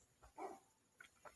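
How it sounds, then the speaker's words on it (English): A dog barks in a few short, muffled bursts, somewhat distant and faint, with quiet gaps between them. "So now y'all gonna have to deal with the dog barking for a minute."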